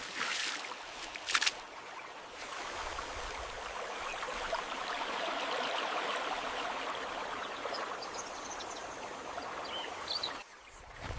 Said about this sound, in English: The sound of rushing water guides their path